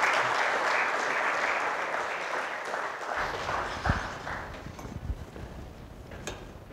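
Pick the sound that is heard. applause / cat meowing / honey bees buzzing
applause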